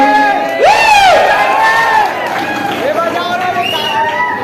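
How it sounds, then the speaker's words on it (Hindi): A crowd at a film meetup cheers, shouting and whooping loudly in overlapping bursts, with voices rising and falling across the gathering. "जोरदार ताली से अगर उत्साहवर्धन करवाना चाहता हूँ"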